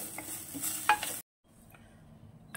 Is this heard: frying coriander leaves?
yes